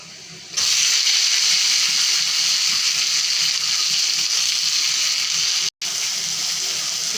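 Tomato dropped into onions frying in oil in a wok, setting off a loud, steady hiss of sizzling that continues without pause, broken by one brief cut near the end.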